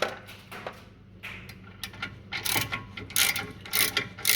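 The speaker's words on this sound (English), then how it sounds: "I'm just tightening the two bolts" Brake caliper holder bolts on a Mercedes-Benz ML350 W166 AMG being tightened with a ratchet: bursts of quick metallic clicks, sparse at first and then denser and louder, close up with no talk.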